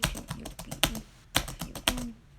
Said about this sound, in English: I'm just typing a random email here.